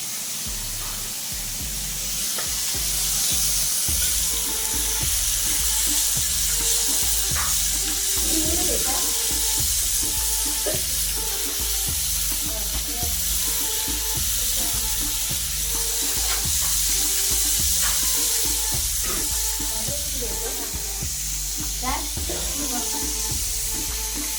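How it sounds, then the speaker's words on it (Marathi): Bombay duck (bombil) fish frying, a dense continuous sizzle and spatter that holds steady and loud, with a voice talking over it. "बोंबील फ्राय"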